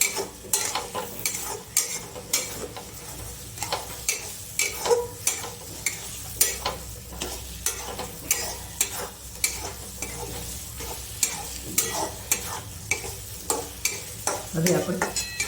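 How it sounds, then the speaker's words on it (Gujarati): Sooji shiro (semolina pudding) is stirred nonstop in a pan on the gas, giving a steady run of quick spoon scrapes and taps with a light sizzle, close and alone. "જો હવે સતત હલાવ્યા કરશું આપણે. ફટાફટ, કારણ કે નીચે બેસે નહીં."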